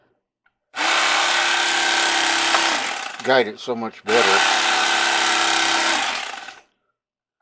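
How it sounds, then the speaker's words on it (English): An electric knife slicing beef for jerky buzzes steadily, pausing briefly while someone speaks, then whirs again before cutting off. "I just find with an electric knife you can"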